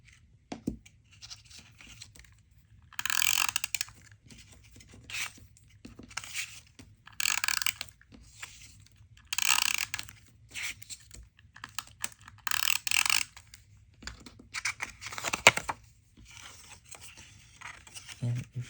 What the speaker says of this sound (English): we're just going to use some tape runner